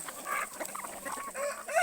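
Chickens, both roosters and hens, cluck and chatter close by while being fed corn in the morning on a farm, a continuous overlapping flock of short calls with no talk.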